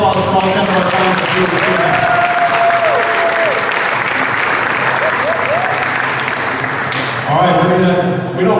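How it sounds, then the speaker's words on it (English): An awards ceremony audience gives a long, dense round of applause for the ten finalists. The steady clapping runs throughout while a voice speaks over it. "How about a nice round of applause for all 10 of our finalists?"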